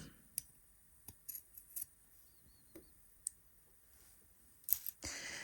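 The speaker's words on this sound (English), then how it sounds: "we are going to trim our corners here." Scissors snip fabric corners of a dress seam to cut bulk, several sharp isolated clicks spaced apart in a quiet room, followed by a brief rustle of cloth.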